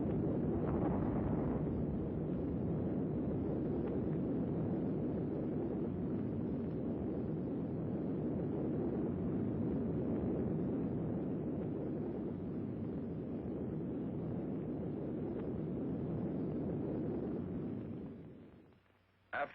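Distant roar of an Operation Tumbler atomic bomb test blast, a sustained low rumbling wash with wind-like turbulence that holds steady for most of the span before fading out near the end.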